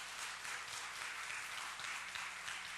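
Audience applause for staff at a 25th-anniversary worship service, a dense steady wash of many hands clapping that fills the whole moment without pause, with no voices rising above it.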